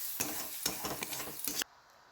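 Paste frying in a pan while being stirred, with soft sizzling broken by several sharp scrapes and clinks of a utensil against the pan, stopping abruptly after about one and a half seconds.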